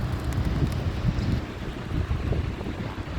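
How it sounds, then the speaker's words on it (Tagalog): A cold breeze blows outdoors among date palms, giving a steady, rough rush of wind noise across the microphone with no voices. "Saka malamig pa ngayon. Yung simoy ng hangin."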